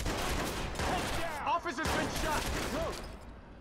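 Gunfire during a police shootout in the open-world game Watch Dogs, a dense continuous crackle of shots and combat noise filling the whole clip, with brief voice-like sweeps midway.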